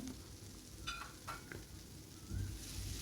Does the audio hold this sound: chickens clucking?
no